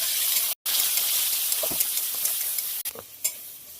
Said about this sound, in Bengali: ভাজার জন্য খুব ভালোভাবে নেড়ে দেবো।